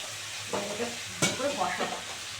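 A paste of blended tomato, ginger and green chili sautés in a pan for a Bengali banana flower dish, with soft sizzling and a couple of scraping stirs, one sharp clack of the spoon against the pan.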